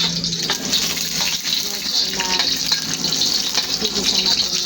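Bitter gourd (ampalaya) sautéing in a pan on a rainy day, a steady crackling sizzle with scraping stirs and a watery hiss running throughout, close and fairly loud.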